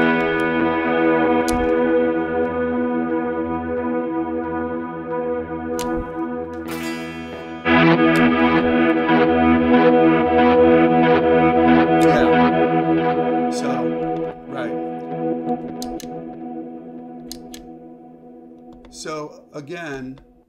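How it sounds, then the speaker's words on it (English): A Mooer Ocean Machine pedal in play mode building guitar delay oscillation, sustained layered tones that swell louder partway through, then decay and fade with some warbling at the end. "In play mode, it'll create oscillation."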